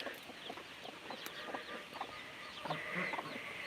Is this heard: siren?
no